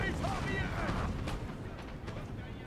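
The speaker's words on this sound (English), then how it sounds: "The Prussians just getting hammered by the French howitzers." French howitzers in Napoleon: Total War pound away at Prussian lines, a dense wash of rumbling artillery fire with scattered booming impacts over a continuous battle din.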